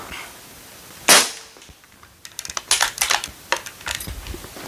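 An airgun fitted with a 3D printed suppressor fires one sharp, close crack, followed by a run of faint irregular clicks and ticks, with no talk.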